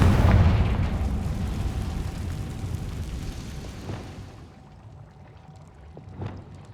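A Confringo spell explosion in Hogwarts Legacy: a booming blast up front that rumbles and slowly decays over several seconds, with a couple of fainter pops and impacts near the end.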